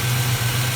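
A Dodge Duster engine idles after stalling-in-gear trouble, a steady, loud low hum with an even, rough drone and no change in pace over the brief span, no voices.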